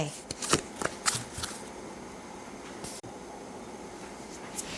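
Tarot cards are shuffled by hand in a few quick riffling bursts near the start, then soft card handling continues under a faint background hiss.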